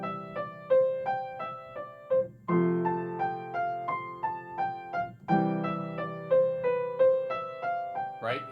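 A piano is played slowly with choppy, non-legato phrasing. Notes and chords are struck one by one with audible gaps and interruptions between them, clear and moderately loud, with no talking.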